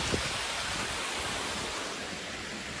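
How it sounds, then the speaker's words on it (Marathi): A monsoon waterfall along the road to Raigad fort roars as a steady, broad rush of falling water, heard from a distance as an unbroken wash of noise. "इथून कुठे धबधबा पडतोय आवाज तर येतोय."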